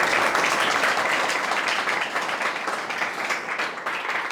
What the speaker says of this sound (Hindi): एक बार नोशन टीम के लिए जोरदार तालियां।